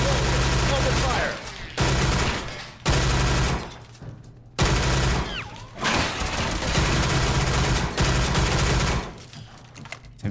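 Gunfire in Fallout 4 with a gameplay overhaul modpack: repeated loud bursts of automatic fire broken by short pauses, close and harsh, with voices shouting in between.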